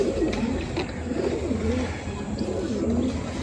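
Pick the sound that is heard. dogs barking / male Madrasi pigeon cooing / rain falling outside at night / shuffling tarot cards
male Madrasi pigeon cooing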